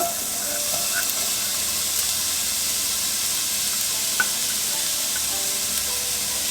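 Chopped onion hits about a tablespoon of hot olive oil in a pan, giving a steady bright hiss of frying that holds throughout, close and even, with a few faint clicks and no talking.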